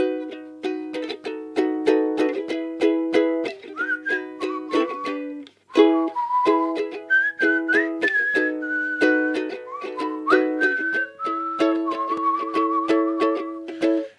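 A single person whistles a melody alone, clear and close, in a string of short notes with one brief pause partway through.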